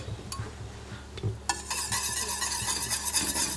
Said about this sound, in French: on l'incorpore à la crème et on mélange